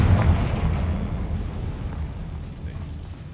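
A Confringo blasting spell goes off in a Harry Potter video game as one loud, deep boom with a rumbling low-end tail that slowly fades over a few seconds.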